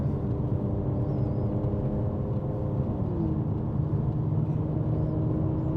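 Mercedes C43 with its resonator deleted drones along at steady cruise, a continuous low exhaust rumble heard from inside the car, constant in level without distinct revs or pops.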